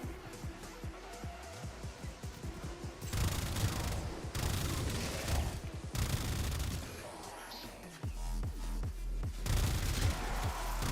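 Weapon fire in a video game, rapid bursts of gunshots in several stretches of a few seconds each, loud and dense, mixed with other game sounds and no voice over them.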